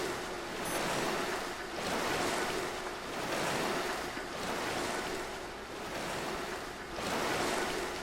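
Ocean waves in the survival game Stranded Deep roll in slow, regular swells, each rising and falling about every two seconds, a steady open-water wash with wind noise and no voices.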